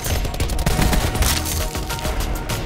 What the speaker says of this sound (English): Ah, the shotgun.